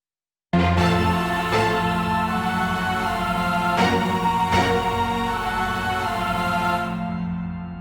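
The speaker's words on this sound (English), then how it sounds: "and with choirs and organ, it sounds like this" Orchestral strings combined with choir and organ from a metal track form one dense, sustained chord wash that starts abruptly, holds steady and loud with a few brief accents, then fades slightly at the end.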